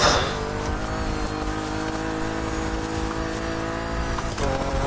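A car in The Crew Motorfest racing game loses control, with a steady, loud engine drone and sustained tire noise running throughout, ending in a brief shift near the close; no speech.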